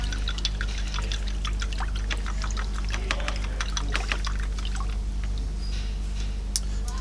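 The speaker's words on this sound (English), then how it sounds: "wash that away with fresh," Fresh clean water pours and trickles over the gold tip of an Astral Pool Viron eQuilibrium salt chlorinator's chlorine probe, a steady close splashing stream with scattered drips over a constant low hum.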